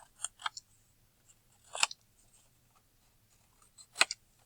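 Scissors snip the corners off a block of play dough: three short close cuts, one pair quickly following another near the start, then two more isolated snips spaced a couple of seconds apart in a quiet room.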